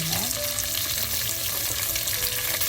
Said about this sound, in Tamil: இதோட கருவேப்பிலை, ரம்பையில், வெங்காயம் சேர்ப்போம்.